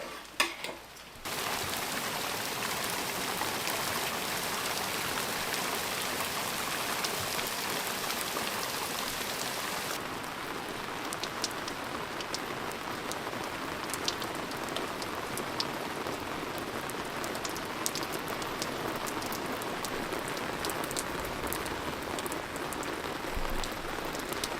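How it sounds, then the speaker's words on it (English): Heavy rain pours on a cabin roof as a dense, steady patter with scattered louder drops, continuing unbroken for over twenty seconds with no talking. "It has been off and on pouring all day."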